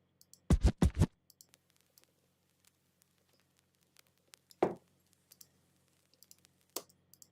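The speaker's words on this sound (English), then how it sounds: "let's add like a vinyl crackle." Vinyl crackle laid into a UK rap beat as ambience: sparse, irregular soft clicks and ticks, punctuated by a few louder pops near the start and middle, with no voices.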